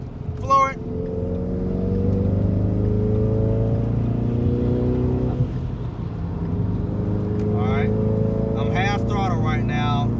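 A modified 2017 Mustang EcoBoost with a six-speed manual pulling hard at full throttle on a wet, rainy road, its engine note climbing steadily through the revs with a brief dip at a gear change, and a voice cuts in near the end.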